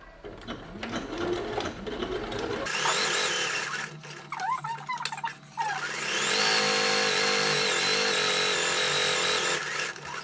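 A sewing machine stitches a reversible fabric bag in a short run, then pauses. A longer, louder continuous run follows, close and mechanical.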